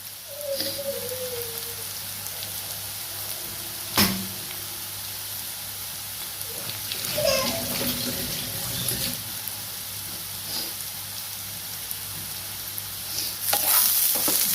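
Chicken curry with yogurt, coconut milk and flour is stirred in a pot, with a steady low sizzle, occasional scrapes and sharp knocks of the utensil, and some wet, watery sounds.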